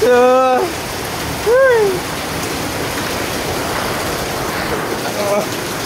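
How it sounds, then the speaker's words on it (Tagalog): Heavy rain pours in a constant roar during flooding that has entered a house, while a voice briefly cuts in at the start, again shortly after, and faintly near the end. "Grabe yung ulan."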